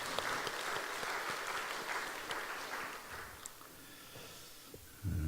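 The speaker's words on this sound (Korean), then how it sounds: "박수로 찬양 올려드리겠습니다" Church congregation applauding during a Thanksgiving Sunday worship service: dense, steady clapping from many hands that runs for about five seconds and then stops abruptly.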